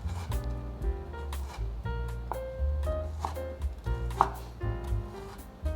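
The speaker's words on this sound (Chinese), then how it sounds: "现在来切成细丝，不用特别退冰，它一样很好切" A knife slices frozen vegetarian mushroom pieces into thin strips on a cutting board, with a quick run of crisp chops close by and a faint sizzle underneath.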